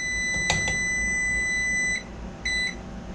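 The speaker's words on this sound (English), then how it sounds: "Had the timer set just to remind me" A kitchen timer beeps while beans simmer on a stove for bean burritos, giving a long steady electronic tone with a few short pulses, then a brief repeat toward the end, alone with no talk.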